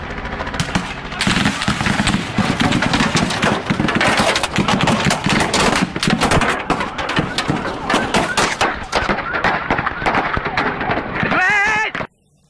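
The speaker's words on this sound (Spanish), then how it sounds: "Y ahí viene el ametrallamiento." Sustained, loud burst of automatic gunfire during a clash between farmers and police at the Curuguaty massacre in Paraguay, dense rapid cracks filling about twelve seconds with mixed background noise, ending abruptly.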